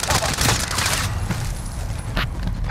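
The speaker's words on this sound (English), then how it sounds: "They're shooting at me." Gunfire in the Call of Duty: Modern Warfare video game: a rapid burst of shots at the start, then a few scattered single cracks, with voices talking over the action.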